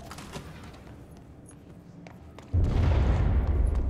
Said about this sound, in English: Oh, more explosions. That's not good.